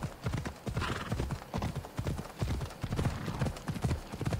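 Horse hooves clip-clop in a steady galloping rhythm while riding in Assassin's Creed Odyssey, close and clear, with a brief whinny and faint voice underneath.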